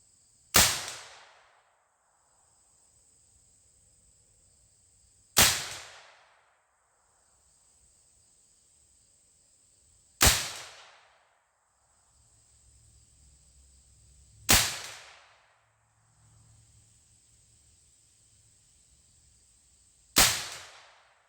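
An M50 paintball-style launcher firing S45 slugs during testing, five sharp loud shots spaced about five seconds apart, each with a quick decaying tail over a faint steady background hiss.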